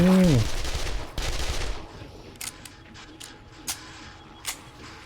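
A quick burst of gunfire in 7 Days to Die followed by scattered sharp shots and clicks, fading into quieter background noise.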